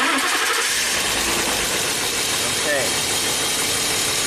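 A 1994 BMW wagon with an intermittent crank-no-start fault turns over and fires up, its engine settling into a steady, loud running drone that fills the whole stretch at close range.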